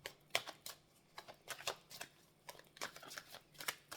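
A deck of tarot cards being cut and shuffled by hand, a quick run of crisp riffling flutters and slaps in irregular bursts, close and fairly quiet, with no talking.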